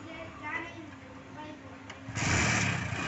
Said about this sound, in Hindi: तो ये करी इन्होंने अपनी बाइक स्टार्ट और ये चले अपने ऑफिस के लिए।